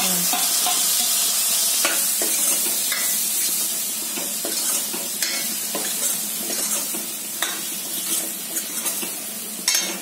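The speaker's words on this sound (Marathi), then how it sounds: "आता मसाले मी एकत्र करते" Ground spices, coriander powder and garam masala among them, stirred together in a hot pan for a dried bombil and potato curry, with a steady sizzle under repeated spoon scrapes and clinks, close and fairly loud, no talking.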